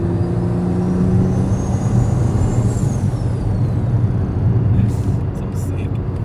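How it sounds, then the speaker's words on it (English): BMW M3 G80 with exhaust valves closed, a steady engine drone under a rising and falling high turbo whistle, with a brief hiss near the end. "Bro, I like closing the valves because then like all you hear is the turbo."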